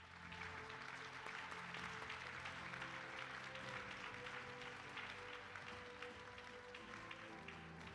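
An audience claps continuously for several seconds, a dense, even patter heard from a distance and fairly faint.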